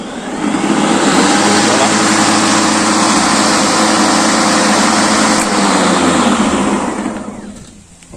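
A DeWalt DCMW564P2 18V XR cordless lawn mower spins up within half a second into a loud, steady whirring hum that holds for about six seconds before winding down; a person speaks one brief word near the start.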